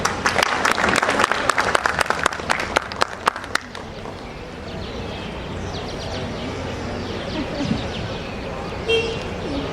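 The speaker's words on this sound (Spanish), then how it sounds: "Un aplauso para él." Audience applause for Dr. Mauro Mamani at a book presentation, a dense burst of clapping for about four seconds that then stops, leaving a quiet room with faint murmurs and shuffling.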